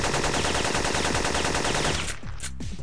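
Gunfire in the Syphon Filter video game, with an M16 in play, comes as a dense, loud, rapid automatic burst that runs steadily and then breaks off into a few scattered final shots.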